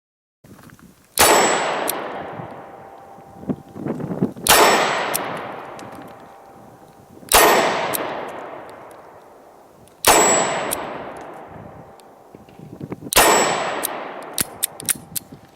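A Smith & Wesson M&P340 revolver firing Corbon DPX 110-grain rounds: five loud, sharp shots about three seconds apart, each ringing out in a long echoing decay, with small clicks between them.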